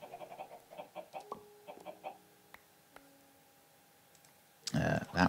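Chickens clucking in Minecraft Skyfactory, a run of small, quick clucks and clicks, fairly faint, followed by a louder burst near the end.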